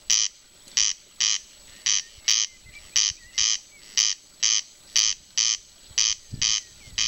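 Corncrake calling on Colonsay, a repeated rasping double-note crake sounding in a steady rhythm of about two calls per second, fairly near and clear against a quiet open background.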